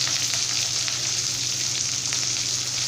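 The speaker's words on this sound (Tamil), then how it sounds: "கடுகு பொரிச்சு வர டைம்ல சின்ன வெங்காயம் ஆட் பண்ணிக்கிறேங்க." Shallots, dried red chilies and curry leaves frying with popping mustard seeds in hot oil for drumstick kootu, a dense, steady sizzle close up with no voices.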